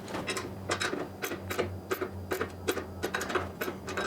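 A hand screwdriver tightens fasteners on a saw rail and strut assembly, producing a rapid series of close, light ratcheting clicks over a low background hum.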